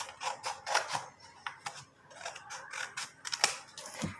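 Scissors cut through cardboard in a run of close, crisp snips and clicks at an uneven pace, some strokes sharper than others, with no voices.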